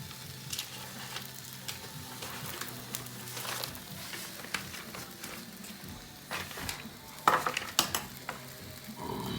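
Jerk-seasoned alligator pieces fry in a pan, giving a quiet, steady bubbling sizzle with occasional louder pops and light scraping of a utensil, close by and with no talking.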